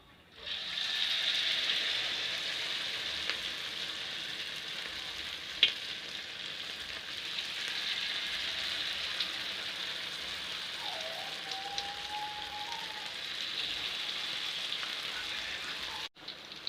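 Bakwan vegetable fritters made with batter sizzle in hot oil in a wok, a continuous even crackling hiss that holds steady throughout, close and moderately quiet.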